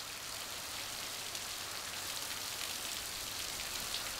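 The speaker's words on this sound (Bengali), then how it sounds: "এ বৃষ্টি কি থামবো বইলা মনে হয়?" Steady rain falls in a dense, even hiss of drops that continues without pause, moderately loud and unaccompanied by voices.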